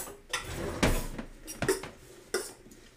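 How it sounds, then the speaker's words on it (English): A spoon stirs sweet potato and mushroom bao filling in a pot, giving a few distinct scraping knocks and clinks against the metal, spaced apart with quiet gaps between them. "Nice little stir"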